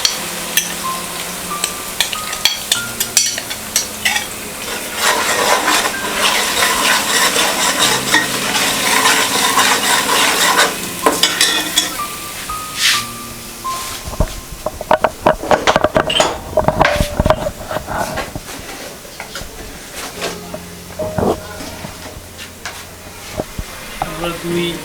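Onions dropped into a hot pan of oil while cooking meat pulao, sizzling steadily and stirred with a utensil, scraping and clinking over the frying; a voice talks intermittently in the background.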